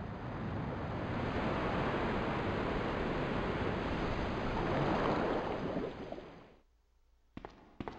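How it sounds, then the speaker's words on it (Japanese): Loud rushing gush of water draining in the video game Resident Evil 2, a continuous churning wash lasting several seconds before cutting off abruptly, followed by a few sharp clanks. "ちょっとほんならちょっと排水して"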